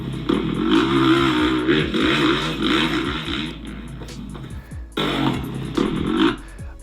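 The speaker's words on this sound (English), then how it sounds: "Just listen to the bike" A supercross dirt bike engine roars loudly, revving and climbing in pitch in rapid repeated surges, cutting out briefly, then snarling back up, with no voices over it.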